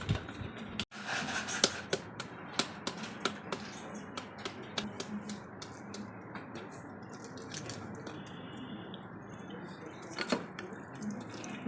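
Hot boiled eggs dropped into cold water, making sharp clinks and splashy knocks followed by a scatter of small water and handling sounds, close by with no talking.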